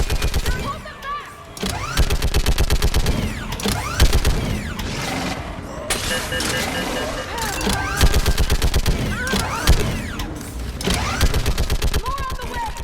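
Heavy gunfire in Mass Effect 3 mixed with mechanical clanking, a busy battle din of rapid shots. Voices shout beneath it.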